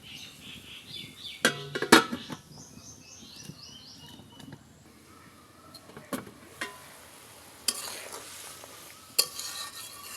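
Curry gravy for raw banana kofta coming to a boil in a covered pan, giving a soft steady bubbling simmer with occasional clinks and clatter from a utensil.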